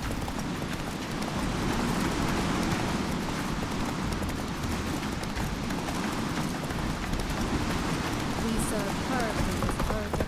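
A horse gallops in The Witcher 3 video game, its fast drumming hoofbeats running continuously under a dense, loud wash of ambient noise.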